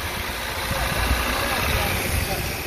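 A car engine idles after an AMSOIL Power Foam cleaning treatment, a steady low rumble with constant broadband hiss and no rise or fall in level, sounding close and even throughout.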